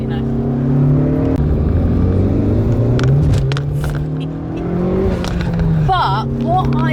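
A Honda Civic Type R hot hatch accelerating on cold roads, its engine droning and rising steadily through the revs with a gear change midway, while someone talks over the loud, continuous motor noise.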